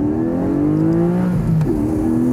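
Morgan sports car engine revving: a loud, close, rising whine that climbs in pitch, dips briefly at a gear change, then climbs again, with no talking.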